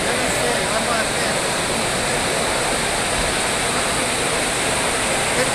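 Falling rain or pouring water makes a dense, steady hiss that stays loud and even throughout, with no clear pauses or separate drops.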